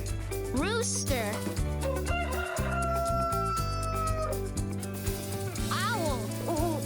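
A rooster crows a drawn-out cock-a-doodle-doo with a few clucks, heard over a steady music bed.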